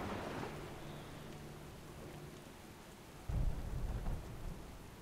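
Heavy rain and rumbling thunder roll through a stormy game battlefield in World of Warcraft, a steady wash of downpour with a louder thunder burst swelling near the end.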